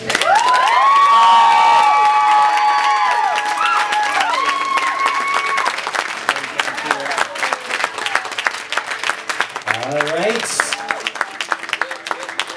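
Guests at a wedding ceremony clap and cheer for the newly married couple in a loud, dense burst, with whoops and shouts, some of them children's, rising over the applause at the start before it settles into steady clapping.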